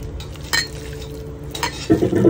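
Mashed potato bhorta being mixed by hand or spoon with onion, green chili, mustard oil and salt, a few soft scraping and clinking strokes against the bowl, close by, ending in a brisker squelching stir.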